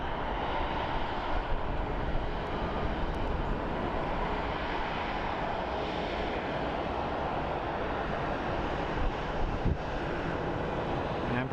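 A Southwest airliner pushes back from its gate at Phoenix Sky Harbor airport, its engines giving off a steady, broad roar that holds at an even level throughout, with faint wind rumble underneath.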